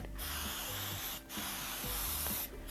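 Easy Tack spray adhesive hisses from an aerosol can in long, loud, steady bursts, with brief gaps between sprays while covering an ironing board surface.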